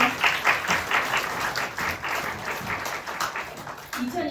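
An award ceremony audience breaks into steady, dense applause that holds for the whole stretch, with a voice speaking faintly over it near the start and again at the end.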